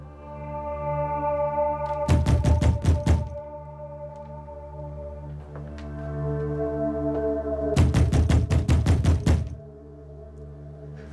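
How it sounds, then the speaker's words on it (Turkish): A door in a palace drama pounded in two rapid bursts of loud, close knocks several seconds apart, each around ten blows, with a low droning musical tone held underneath throughout. "Yıllardır şu kapı çalıyor."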